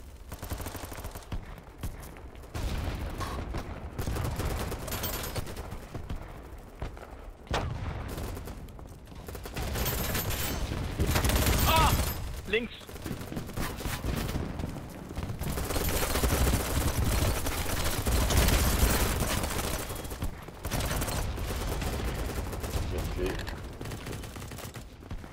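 A P90 submachine gun in Battlebit Remastered rattles off repeated fast automatic bursts over a long stretch, close and loud, with voices talking in between and under the firing.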